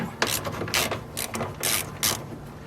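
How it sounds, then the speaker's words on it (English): A screw is backed out of the side mirror of a 2019 Honda HR-V, giving bursts of close ratcheting clicks and grinding turns in several short spurts, with no talking. "there's a third screw right in here. Take that screw out too."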